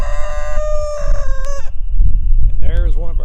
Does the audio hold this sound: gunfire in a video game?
no